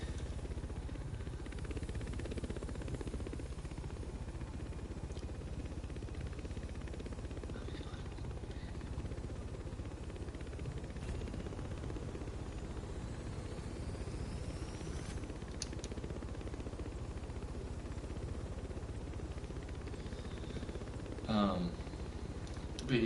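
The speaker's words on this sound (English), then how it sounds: "Alright, time to get the helicopter out." A helicopter flies in a steady, droning whir that holds even and unbroken for a long stretch, close and constant, with only faint other noises rising briefly near the end.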